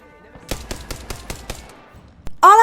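Gunfire in Apex Legends: a quick burst of about six evenly spaced automatic shots over roughly a second, close and sharp, tapering into quieter rattling before a brief louder burst at the end.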